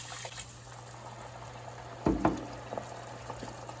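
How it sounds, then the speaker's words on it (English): A cup of dry white wine goes into a hot pan of frying osso buco with a short burst of splash and hiss. A quiet bubbling simmer follows. "Now we're going to put a cup of white wine in there"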